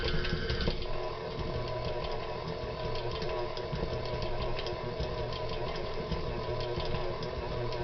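An electric mixer kneading gingerbread dough at speed 2 gives a continuous whirring motor hum with a rhythmic, labored churn as the dough thumps around the bowl, while someone talks over it.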